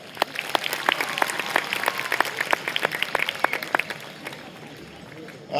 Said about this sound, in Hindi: सबसे पहले तो मैं चाहूंगा आप लोग हम सब के लिए तालियां बजा रहे हैं, अपने लिए तालियां बजाएं।